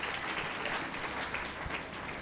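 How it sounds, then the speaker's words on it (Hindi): A congregation at a Saturday satsang worship service claps together in a dense, steady burst of applause. The clapping is fairly close and continuous for a couple of seconds. "ताली बजा के प्रभु को महिमा दो"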